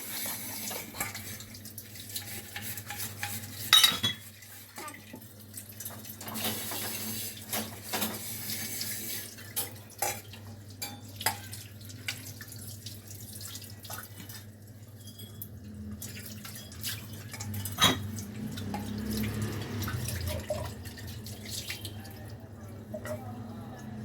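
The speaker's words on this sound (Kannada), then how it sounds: "ನೀಟಾಗಿ ಒಳಗೆಲ್ಲ ಕೈ ಹಾಕಿ ಒಳಗೆಲ್ಲ ತೊಳಿ." A vessel scrubbed by hand inside under a running kitchen tap at the sink, steady water flow with splashes, drips and clinks throughout, close and moderately loud.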